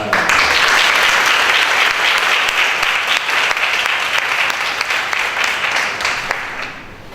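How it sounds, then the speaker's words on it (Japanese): A Tokyo talk-event audience gives sustained, dense applause to welcome a speaker on stage, steady and loud throughout before easing slightly near the end. "温かい拍手でマークさんを迎えてください。"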